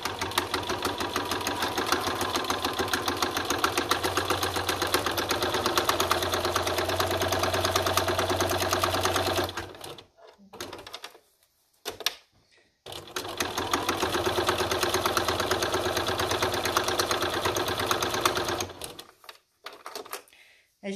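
A sewing machine topstitching a wrist strap about 1/8 inch from the edge, running steadily in two long stretches of roughly ten and six seconds with a brief stop-start pause between, close and fairly loud.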